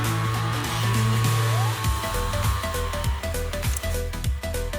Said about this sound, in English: We can hear the sound of the vibration function being turned on.